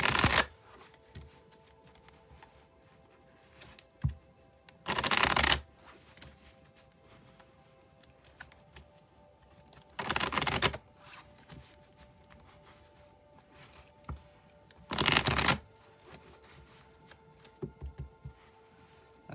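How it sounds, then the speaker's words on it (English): A tarot card deck is shuffled in four separate bursts, each about half a second of crisp riffling flutter, spaced roughly five seconds apart and close to the listener over a quiet room with no talking. "Now, I will shuffle a few times, and then when I feel the deck is ready, I will cut the deck"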